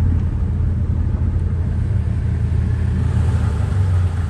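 Suzuki Samurai truck engine running steadily as the vehicle is moved, a continuous low rumble with a slight rise near the end, close and loud with no talking.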